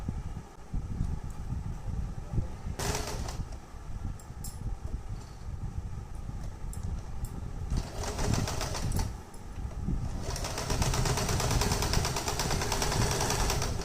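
A sewing machine stitches along a blouse neckline, its motor whirring in bursts with short pauses between runs, close and moderately loud.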